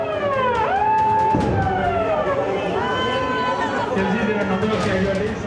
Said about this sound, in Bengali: 71 যুদ্ধের পর আবার বাজল সাইরেন।